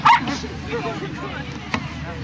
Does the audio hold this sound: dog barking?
yes